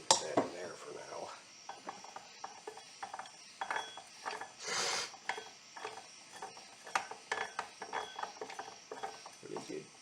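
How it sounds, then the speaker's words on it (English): A 1929 Briggs & Stratton model PB engine under restoration is spun by hand, giving close, repeated ratcheting clicks and metallic mechanical rattles with a brief whirring swell midway, while someone talks intermittently. "Really good spinning motor."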